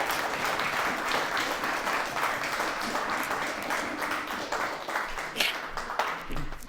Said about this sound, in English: Can we have a round of applause for our other survivors here?